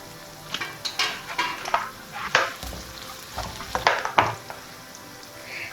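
Potato leaves stir-fried with green chilies and salt in a pan, bursts of hissing sizzle and metal scrapes from a spatula tossing the greens in an uneven rhythm, heard close with no talk.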